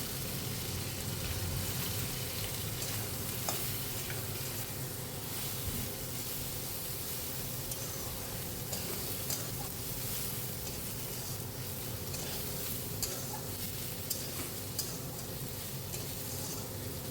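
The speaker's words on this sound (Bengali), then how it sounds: "এই তেলের মধ্যে চিংড়ি মাছগুলো একটু সামান্য তেলে একটু ভেজে নিচ্ছি" Prawns frying in a little oil in a pan, giving a low, steady sizzle and hiss with scattered light pops and stirring clicks, sustained and close, with no voices.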